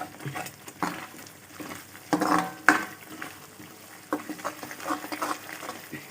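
Oil with chilli flakes bubbles and sizzles in a pan while hog plum pickle is made, a soft steady crackle with a few sharper pops and light stirring knocks.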